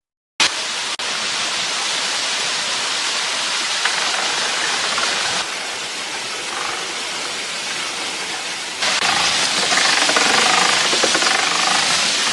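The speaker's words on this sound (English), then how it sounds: "allowing the rushing water to awaken the dormant generator" Water from a forest irrigation channel rushes through to drive a small generator, a loud, dense, steady roar. The flow swells in a few steps and grows stronger toward the end.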